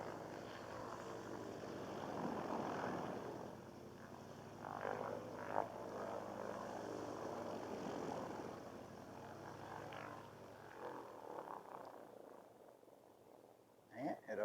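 A vintage aircraft engine idles at an airshow weekend gathering in Temora, a low steady throbbing drone that swells and settles, with faint voices nearby.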